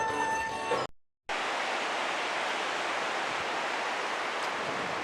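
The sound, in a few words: river rushing through Tiger Leaping Gorge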